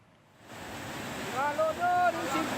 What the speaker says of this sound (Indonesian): seperti inilah dahsyatnya banjir lahar hujan saat menerjang permukiman warga di Kabupaten Agam, Sumatera Barat